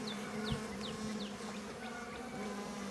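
Honeybees buzzing steadily around an opened hive during a Varroa mite treatment, with a low continuous drone and individual bees passing close by in short whining sweeps.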